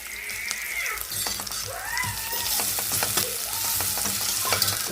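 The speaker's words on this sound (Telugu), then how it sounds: "మసాలా అయితే బాగా వేగేసింది" Masala spices for gongura chicken fry in oil in a kadai, a steady close sizzle with clinks and scrapes of stirring throughout and no talking.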